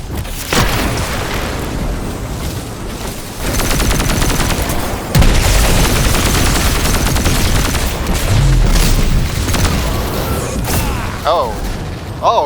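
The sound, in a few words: gunfire from an enemy in the video game Destiny 2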